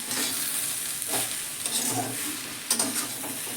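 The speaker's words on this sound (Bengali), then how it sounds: "একটু চিনি দিলাম মিশিয়ে দিলাম" Papaya cooks in a pan while sugar is stirred in. A steady sizzle runs underneath, and a spoon scrapes against the pan in a few short bursts.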